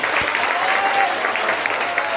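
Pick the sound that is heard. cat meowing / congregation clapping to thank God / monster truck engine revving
congregation clapping to thank God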